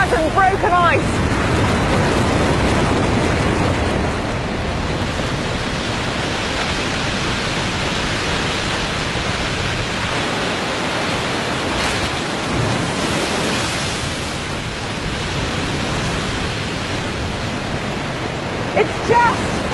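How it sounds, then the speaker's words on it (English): A waterfall pouring in a dramatic jumble of mud and broken ice, a loud, steady, broadband roar of rushing water that fills the whole stretch with little change. "it is pouring and pouring over the waterfall in this great dramatic jumble of mud and broken ice"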